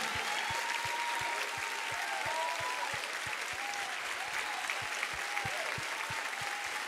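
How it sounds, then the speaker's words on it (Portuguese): A church congregation claps loudly and continuously during a worship service, the dense applause carried by a steady, evenly spaced rhythmic beat throughout. "Vamos aplaudi-los forte, irmãos, por favor."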